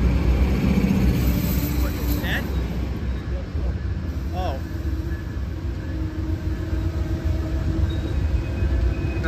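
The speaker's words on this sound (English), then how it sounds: "Oh, we got three locomotives." Amtrak Southwest Chief passenger train pulled by three locomotives rolling past a station at Fullerton, a steady loud rumble of wheels and engines throughout, with people talking over it.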